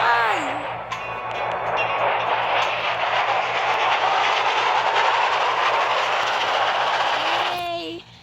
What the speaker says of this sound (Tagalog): Tren, choo-choo.